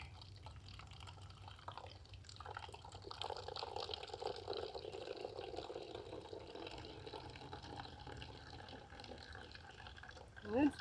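Water squeezed from a bag through a Sawyer Squeeze filter, trickling and dripping in a faint steady stream with small splashing variations, quiet and close.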